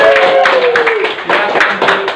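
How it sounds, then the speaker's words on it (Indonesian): Students in a classroom clap together in a brief burst of applause, with a teacher's voice speaking over it. "Oke, tepuk tangan."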